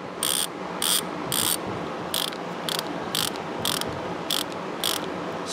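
Vintage Plumb 5249 (Proto) 24-tooth ratchet wrench clicking in short, evenly spaced bursts of crisp metallic ticks, about nine bursts, close and clear with no talk.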